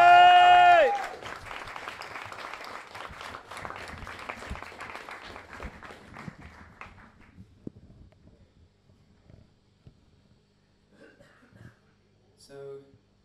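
Audience applause and cheering at a rock concert at The Firebug, Leicester, starting loud then fading over several seconds into scattered claps and murmuring, with a brief guitar note near the start.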